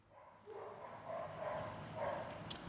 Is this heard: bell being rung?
no